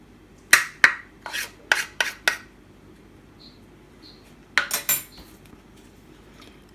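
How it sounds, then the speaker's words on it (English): Half a cup of ordinary fine corn flour is scooped and levelled, giving a handful of sharp scraping, tapping clicks in short clusters, close and fairly crisp over quiet room tone. "So I'm taking half a cup of corn flour."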